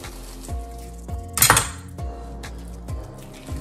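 Falafel burger ingredients get mixed in a bowl, with a steady rhythm of clinks and knocks from a utensil against the dish and one louder clattering scrape midway, heard close up.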